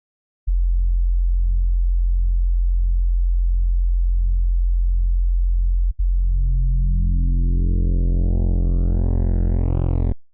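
Synth bass from a drum and bass track: a deep sustained sub tone holds steady, breaks briefly, then returns and opens up into a bright, rising, buzzy sweep with gliding pitch before stopping suddenly.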